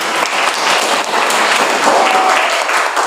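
A classroom of students bursts into loud, sustained applause after finishing a presentation, dense clapping close and continuous throughout.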